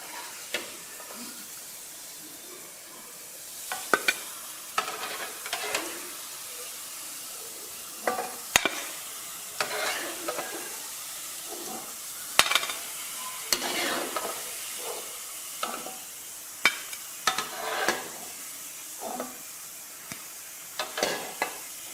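Bread gulab jamun frying in hot oil, with a steady soft sizzle broken by clicks and scrapes as the pieces are stirred and lifted out; nearby and moderately quiet, with no talk.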